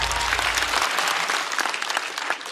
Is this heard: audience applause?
yes